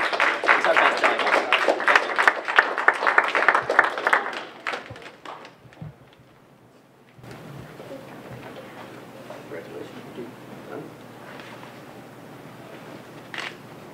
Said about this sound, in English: Give a round of applause to all of our award winners.